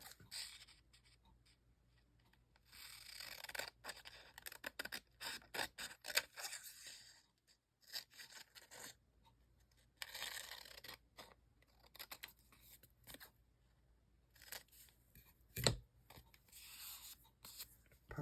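Scissors trim Christmas craft material close by in short, irregular snipping and rustling bursts with brief pauses, and a sharper click near the end.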